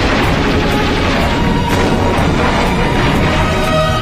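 Loud, dense rumbling booms and crashing blasts of explosions in a battle scene from the 1969 film 100 Rifles, with a constant heavy roar and no clear pauses.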